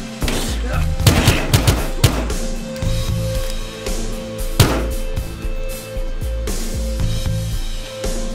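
Gunfire in a Battlefield Hardline police-shooter game: repeated sharp gun reports cracking over a booming music score, with several heavy shots standing out around the middle and end.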